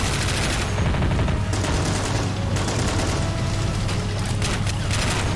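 Cannon and gunfire in a battle simulation video game: dense, continuous rattling volleys of gunshots with heavy low booms, sustained loud throughout with no pauses.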